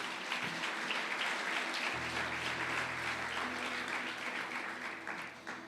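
Church congregation claps steadily together, a dense wash of applause held throughout at moderate distance, with no voices standing out.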